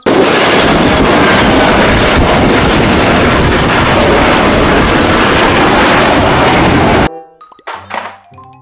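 A toy airplane produces a loud, continuous rushing roar up close for about seven seconds, then stops abruptly, followed by brief faint clicks.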